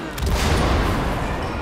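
Loud burst of gunfire during a beetle boss fight in the co-op game It Takes Two, a sharp crack followed by a broad, booming wash that fills the short moment.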